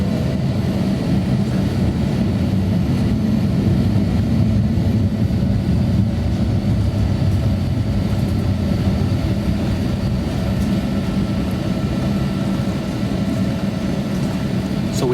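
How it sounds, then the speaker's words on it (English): A Cathay Pacific airliner taking off at an airport, heard from inside another waiting jet as a steady, loud low-frequency engine roar and rumble filling the whole span, with no voices. "Here's a Cathay Pacific plane. Maybe they're taking off just before us."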